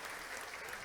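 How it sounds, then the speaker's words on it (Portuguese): Congregation at a church class applauding Dona Tereza for her fifty years of marriage, a brief, soft patter of many hands heard from a distance. "Uma salva de palmas para dona Tereza."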